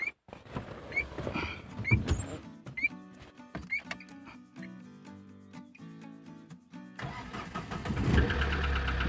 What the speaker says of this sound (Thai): มาดูว่าจะสตาร์ทรถติดไหม